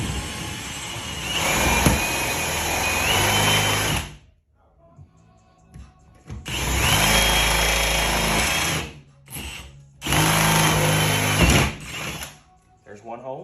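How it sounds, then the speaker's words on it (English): A power drill fitted with a 1/2-inch bit bores holes through a wall on metal studs for toggle bolts. It whines loudly in three separate bursts of several seconds each, with short quiet gaps between them. "I'm gonna use a 1/2" drill bit to make these holes big enough for the toggle bolts"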